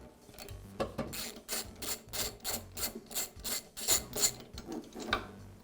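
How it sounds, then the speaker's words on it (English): An old spark plug being unscrewed from a Toro lawn mower engine gives a run of quick, faint ratcheting clicks in short rhythmic bursts, close by, with no voices. "now I can remove the spark plug."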